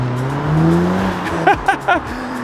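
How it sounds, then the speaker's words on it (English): A 2019 VW Golf R Mk7.5 with a 2.0-litre turbocharged TSI engine and 310 horsepower idles with a steady drone, then gives three quick, loud throttle blips close by. "2 litre turbo TSI engine"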